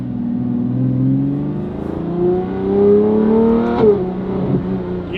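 A Lamborghini Revuelto with a Valvetronic Designs race exhaust heard from inside the cabin, a low rumbling drone that rises steadily in pitch as the engine revs, with a sharp crackle near the end.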